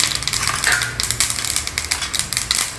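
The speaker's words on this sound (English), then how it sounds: "Heat some ghee in a pan. Add some mustard seeds, a little bit of hing" Mustard seeds and a pinch of hing crackle and pop in hot ghee in a pan, a dense run of sharp sizzling ticks close up.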